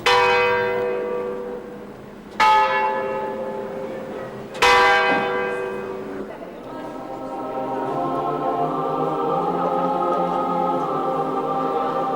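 Church bells in Valletta, Malta ring out in three loud strikes with long ringing decays, then blend into a sustained wash of overlapping bell tones.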